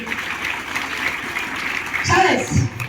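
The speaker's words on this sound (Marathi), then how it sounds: "जोरात टाळ्या वाजवायच्या राऊंडसाठी." Steady applause from a live audience at a promotional event for a Marathi comedy play, with clapping filling the room and a voice rising over it near the end.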